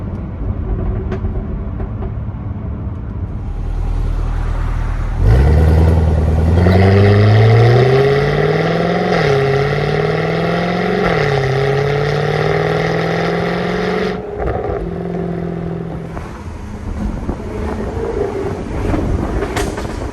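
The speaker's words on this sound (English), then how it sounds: "Exhaust pops are so noticeable." A supercharged V8 Jaguar F-Type R revs hard and accelerates, its harmonic exhaust note climbing through gear changes with noticeable exhaust pops, loud and close, then easing off.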